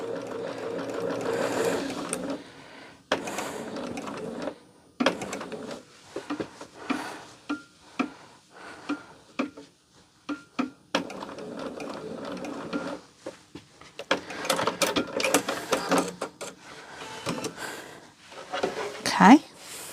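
Sewing machine running in short bursts of stitching with pauses between, clicking and whirring up close, while a person talks over and between the runs.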